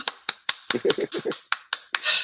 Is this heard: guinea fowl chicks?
no